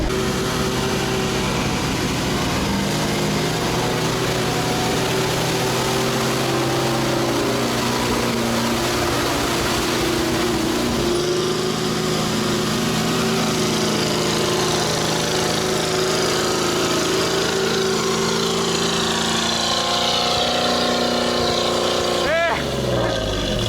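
A 4x4 all-terrain vehicle with a turbine engine drives off-road. Its engine roars loud and close with a steady droning whine that holds throughout, and the pitch shifts only slightly.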